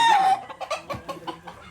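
A chicken at a farm in Lipa, Batangas gives a short loud crow-like call and then a series of quick close clucks in an uneven rhythm, alone with no talk.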